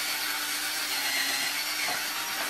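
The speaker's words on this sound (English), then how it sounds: "I'm using just a drill with a paint mixer on it." A power drill fitted with a paint mixer paddle churns bee winter feed, giving a steady continuous whirring and rushing sound, loud and close, with no talking.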